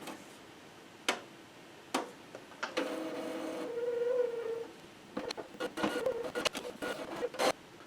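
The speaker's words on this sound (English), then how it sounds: "Go ahead and turn the printer on." An Epson R260 inkjet printer fitted with a continuous ink system powers on and initializes. Sharp clicks and ticks give way to a whirring carriage-motor hum, then a quick run of mechanical clatters, all close and clear with no talking.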